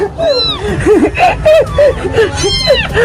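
A kitten meowing repeatedly in short, high, rising cries, close and loud, with people talking and laughing around it.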